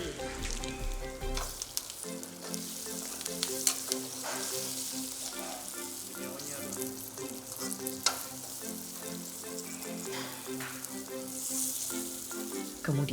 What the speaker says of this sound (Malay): Masukkan daun kari dan tumis hingga naik bau. Masukkan serbuk cili dan tomato.